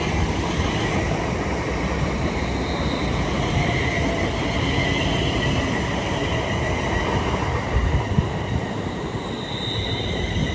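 A London Northwestern Railway class 350 electric train runs into Watford Junction station on the West Coast Main Line, a loud steady broadband rumble and rush of wheels close by for about ten seconds, with no talking.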